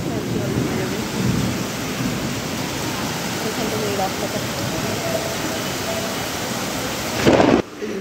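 Dense, loud rainfall pours steadily with a deep rumble of thunder rolling underneath throughout, ending in a brief louder burst.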